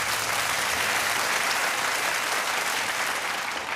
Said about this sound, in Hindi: हम तालियों के साथ इनका स्वागत करते हैं